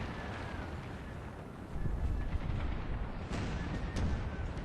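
Round shot artillery rumbles in Napoleon: Total War during Pickett's Charge at Gettysburg. A continuous low roar of distant cannon fire swells midway, with a few sharper reports near the end and no speech.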